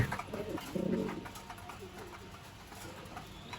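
Pigeons coo softly at a large pigeon farm in Mymensingh, a few low, close calls early on fading into quiet background chatter of birds.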